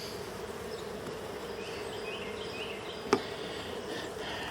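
Honey bees buzz steadily in an opened horizontal hive that is backfilled with nectar, a dense continuous hum close by, with one brief sharp tap partway through.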